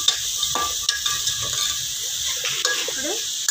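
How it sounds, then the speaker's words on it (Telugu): Fenugreek (methi) being stirred into a pot of veg pulao, a soft continuous sizzle with occasional scraping and light clinks of the spoon against the pan, close and fairly quiet, no talking. "ఇప్పుడు మేతి వేసుకున్నాము ఒక కప్పు. కలుపుకున్నాము."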